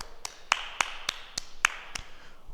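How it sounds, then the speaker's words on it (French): A few sparse, separate claps ring out in a quiet room as a small group applauds itself after a martial-arts drumming exercise, only around seven distinct hand claps with gaps between them and no talking. "On s'applaudit. Bravo."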